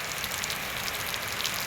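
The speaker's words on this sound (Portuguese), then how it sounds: "Deus mandou uma chuva maravilhosa para nós todos" Heavy rain falls on a January day in Boapaba as a dense, even hiss that keeps up without a break, close and steady, with no voices.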